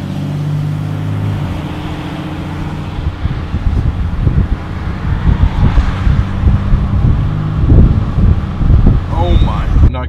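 A Cummins diesel truck engine with an 8-inch exhaust tip rumbles deep and close while driving on the highway. The pulsing low exhaust drone grows rougher and louder partway through, over steady road and wind noise inside the cab.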